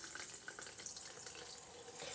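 Water runs from a Tupperware filter jug into a container, a faint, steady trickling splash with small bubbling and dripping textures, alone and fairly quiet.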